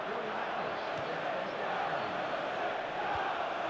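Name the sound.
stadium crowd noise in the video game EA Sports FC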